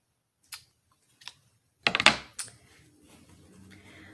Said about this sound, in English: So I'm just going to take my scissors, you're going to need some scissors, and just kind of fold it in the middle there, and then just do a very minor cut right in the middle